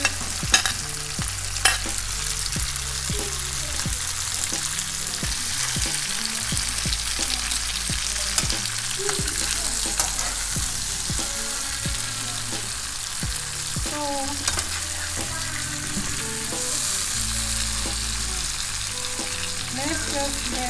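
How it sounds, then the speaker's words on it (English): Fresh tomatoes frying in a hot pan for Indomie noodles, a loud, steady close sizzle with occasional stirring scrapes and clinks throughout. "Let's just let it fry for a little bit"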